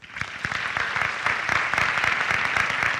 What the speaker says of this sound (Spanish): Por favor, un aplauso para ellos.